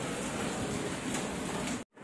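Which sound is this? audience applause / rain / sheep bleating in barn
rain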